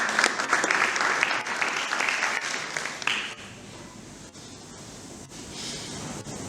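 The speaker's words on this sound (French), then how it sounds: "Cher honorable, acclamez quand même." A student parliament assembly in Kinshasa breaks into loud sustained applause, dense clapping for about three seconds, then fading to a quieter scattered patter and room noise.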